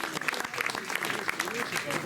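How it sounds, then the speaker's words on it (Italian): Applause for a performer at an evening gathering on 9 August 2025 in Italy; scattered clapping from a small crowd is heard fairly faintly alongside voices, lasting about two seconds. "Un applauso a Gavino Mura."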